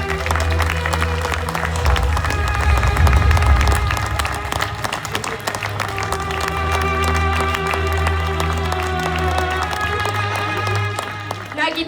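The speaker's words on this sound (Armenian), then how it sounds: "Ծափեր" Sustained audience clapping at a staged event, a thick continuous wash of many hands mixed with crowd noise and a low background hum, swelling early then holding steady throughout.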